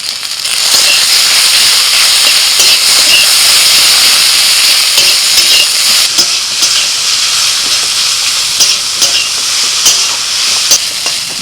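Okra sizzles steadily in a hot pan with salt, turmeric, green chili and onion, a loud continuous hiss broken by occasional sharp crackles and spatters, with no voices.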